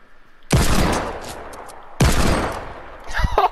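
A hand cannon in the Fortnite video game fires two loud, heavy shots about a second and a half apart, each with a sharp crack that booms and then decays, and faint game sounds follow.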